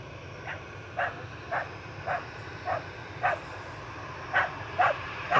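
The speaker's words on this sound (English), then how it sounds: "Apologies about the dog barking." A Springer Spaniel barks repeatedly indoors, about nine sharp, evenly spaced woofs roughly every half second, moderately close, over a steady low background hum.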